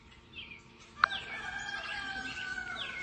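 A rooster crows at a moderate distance, a long drawn-out call over faint background birdsong and outdoor ambience.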